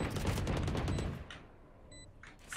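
Rapid gunfire in the shooter Valorant rattles in a dense, close burst for about a second, then fades into quieter in-game tones and faint distant shots.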